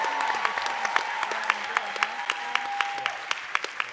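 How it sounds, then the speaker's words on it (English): Steady applause from an audience at a student pitch event, dense clapping with sharper individual claps standing out, continuing throughout at moderate loudness with a faint tone beneath. "Let's give them another round of applause."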